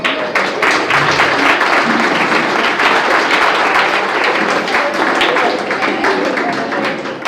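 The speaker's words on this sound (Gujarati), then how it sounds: "પહેલા તમને બધાને પોતાના માટે તમે તાળીઓ પાડો મારા માટે નહીં" Sustained applause from an audience at a student award ceremony, dense and steady clapping filling the room for several seconds without a break.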